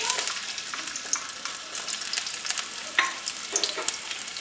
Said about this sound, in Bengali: কড়াইয়ে তেল গরম হয়ে যাওয়ার পরে হালকা পেঁয়াজ দেব